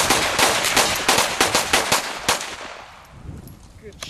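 Toy guns fire in a rapid series of sharp, loud cracks over about three seconds, then trail off into quieter clicks and faint voices.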